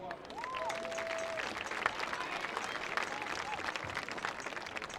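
Crowd applause in the stands at a high school football game, Blair versus Elkhorn, honoring the senior class: a steady, distant wash of clapping and cheering with faint tones from the stadium sound system over it.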